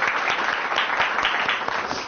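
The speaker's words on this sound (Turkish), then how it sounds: "Alkışlarla Irmak Karakoç'u sahneye davet edelim." A studio audience applauds steadily as Irmak Karakoç is welcomed to the stage of a psychology talk show, a dense, continuous wash of many hands clapping at close range.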